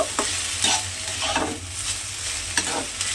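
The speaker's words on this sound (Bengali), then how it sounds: "এই সমস্তগুলো আমি এর মধ্যে দিয়ে দিলাম, দিয়ে খুব ভালোভাবে মিশিয়ে দেব" Kashmiri chili powder and cumin powder are stirred into pumpkin frying in a pan, giving repeated scraping strokes over a steady sizzle, close and fairly loud, with no talking.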